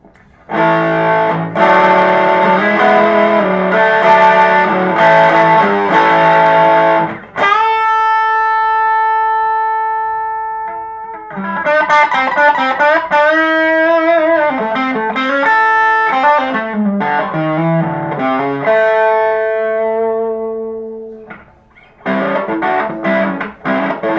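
An electric guitar plays through a Joyo R-02 Taichi overdrive pedal, moving from loud crunchy strummed chords to a long sustained note ringing out, then to driven picked phrases and more chords.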